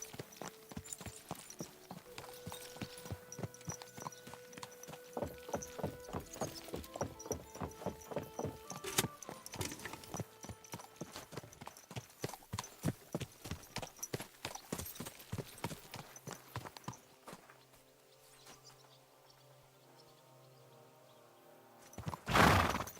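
A horse's hooves clip-clop in the video game Kingdom Come 2, a steady close rhythmic beat of hoofsteps under soft tonal background sound, easing near the end before a brief louder burst.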